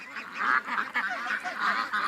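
Ducks at a lake give a run of nasal honking quacks, several overlapping calls in quick bursts, fairly close and loud, with no talking.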